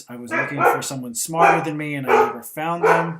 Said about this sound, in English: sorry about the dog there